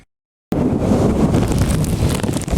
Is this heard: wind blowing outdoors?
yes